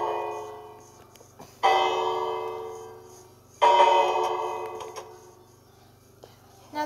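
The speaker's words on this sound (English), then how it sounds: "Now they got scared because I ring the bell." A village bell in a video game rings twice, each strike bright and ringing out with a long decaying tail, fairly soft, with a faint tick at the end.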